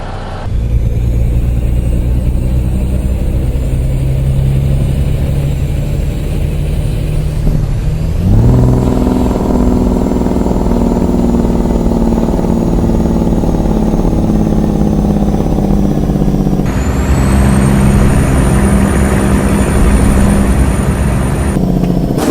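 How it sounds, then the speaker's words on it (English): A Peterbilt 351 truck engine in American Truck Simulator, a loud steady low drone that idles, then shifts pitch twice as the revs change, alone with no talk. "So here's all the cool sounds of the truck."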